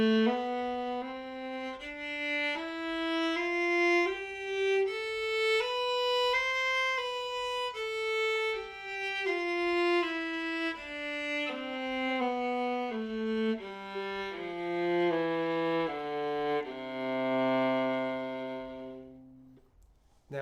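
Viola playing slurred groups of four notes in a single bow, a rising and falling stepwise scale line, clear and close with no talk, fading out at the end.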